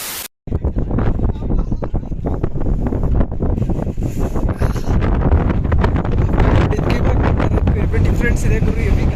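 Wind gusting over a mountainside in the Vanjangi hills, loud and continuous as it buffets the microphone for the whole stretch after a brief quiet start.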